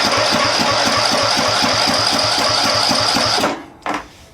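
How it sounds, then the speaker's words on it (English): Starter cranking the engine of a neglected Craftsman riding mower, a loud steady rapid chugging whir close by for about three and a half seconds, then it stops, followed by a brief second burst. "let's see if our starter works first"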